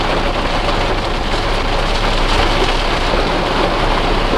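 Heavy rain pours down onto a car parked out in the East End of New York, a loud, dense, unbroken drumming on the body and roof, with no voices.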